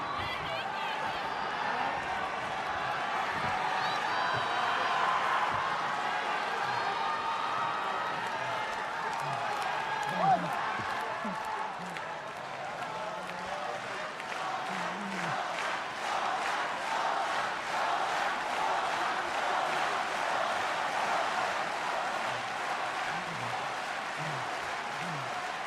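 A wrestling crowd at a New Japan Pro-Wrestling show in Kobe roars, cheers and applauds steadily for nearly half a minute, with rhythmic clapping building in the later part and a commentator talking over the noise.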